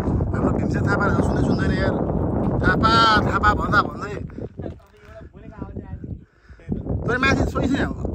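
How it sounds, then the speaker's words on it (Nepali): Strong, cold wind gusts across a high, exposed desert spot in Qatar, roaring and buffeting the microphone while people talk over it throughout. "यो कस्तो चिसो हावा चलिरहेको छ"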